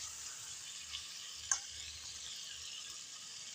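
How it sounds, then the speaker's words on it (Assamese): Chicken pieces frying in hot oil with whole garam masala give a steady, soft broadband sizzle throughout, with one brief clink of a utensil partway through; no voices. "চিকেনখিনি এনেকৈয়ে ভাজি থাকিম অকণমান 4-5 মিনিট বা 5 মিনিট 6 মিনিটৰ মূৰে মূৰে"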